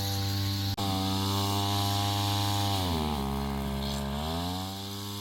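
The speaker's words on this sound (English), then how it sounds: "we are on the second strim now" A string trimmer cuts overgrown garden grass in a long-neglected garden, its engine a steady, close buzzing drone that briefly cuts out near the start and dips and rises in pitch as it works.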